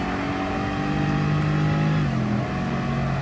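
Turbocharged car engine in a racing video game, revving hard with a steady rising drone, then a brief dip as the pitch drops at a gear shift before climbing again, loud and continuous without talk.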